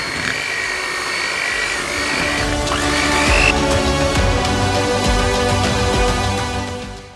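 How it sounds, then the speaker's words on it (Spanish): An electric whisk beats cake batter for a sponge made with mascarpone, apple and walnuts, just after sunflower oil is added; a steady close motor whir with rattling beaters runs continuously throughout. "vamos a batir unos segundos con las varillas"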